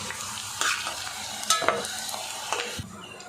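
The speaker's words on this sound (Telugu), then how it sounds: "ఇలా మంచిగా వేయించుకోవాలి మీడియం ఫ్లేమ్లో పెట్టుకోవాలి స్టవ్ పెట్టుకొని వేయించుకోవాలి" Eggplant pieces frying in oil over a medium flame, a steady close sizzle broken by a few scraping stirs and clinks of a utensil against the pan, no voices.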